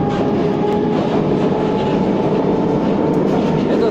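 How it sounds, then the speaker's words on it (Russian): Continuous rumble and rattle of a Moscow metro train running on the Circle Line, with steady wheel noise and a faint high whine throughout, close and loud. "Этот поезд называется «Привет, Москва»."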